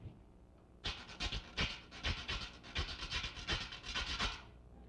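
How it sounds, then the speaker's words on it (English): A ridged dried-gourd guiro scraped with a metal scraper gives a run of rapid rasping strokes, loud and close, in a steady rhythm for about four seconds, with no talk. "the guiro, which is a dried gourd plant with ridges cut on top and scraped with a metal scraper"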